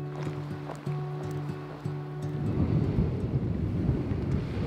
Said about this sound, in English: I think it's too noisy and too windy.